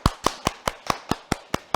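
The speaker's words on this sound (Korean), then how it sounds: "그럼 큰 박수로 김수영 교수님을 모셔볼까요?" Clapping welcomes a professor to a Saturday science lecture: about nine sharp, evenly spaced claps in a steady rhythm, sparse and close rather than a full crowd's roar, with no voices.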